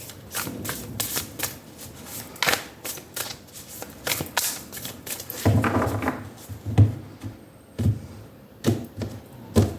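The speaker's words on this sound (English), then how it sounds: "now we're going to take out one card from the Spirit Animal Oracle" An oracle card deck is handled, with rapid riffling and shuffling bursts followed by sharper taps and single card snaps as one card is pulled, close and alone.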